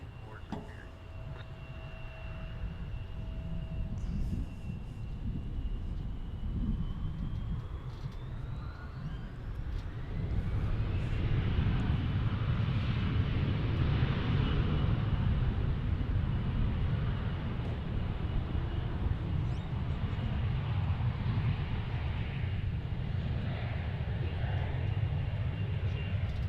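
Envoy airliner taking off from runway 18 left at Dallas Fort Worth airport, a broad jet roar that swells and grows louder and rumbling partway through, steady and distant, with a rising whine early on.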